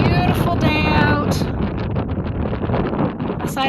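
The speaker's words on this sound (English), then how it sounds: "I hope it wasn't too windy." Heavy, loud wind buffeting a microphone outdoors on a farm, a constant low rumble throughout the clip, with a brief high-pitched sound near the start.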